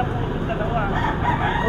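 A Boston Black rooster crows at a poultry market where chickens are sold, a short, fairly loud call heard against background bustle and nearby talking.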